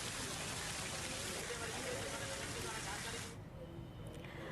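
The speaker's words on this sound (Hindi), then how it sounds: "मानसून में झमाझम बारिश का दौर जारी है" Heavy monsoon rain pours steadily in Rajasthan as a dense, close hiss with no pauses, then drops sharply to a softer patter in the last second.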